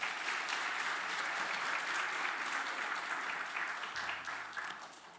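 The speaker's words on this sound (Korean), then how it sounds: "우리 박수 부탁합니다" Congregation at a Christmas morning service at Ulsan Donghae Church applauds a child receiving an elementary department completion certificate, a sustained wash of crowd clapping that gradually tapers off toward the end.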